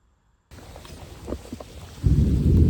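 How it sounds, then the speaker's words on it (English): After a moment of silence, rain patters steadily on the Florida prairie, then a deep rumble of thunder swells up and grows louder toward the end. "it's booming and raining"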